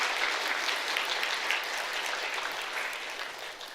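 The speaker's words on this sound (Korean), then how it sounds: "자, 우리 박수로 크게 축하하겠습니다." A church congregation gives a steady round of applause during a worship service, a dense, even patter of many hands clapping that fades slightly toward the end, with no voices over it.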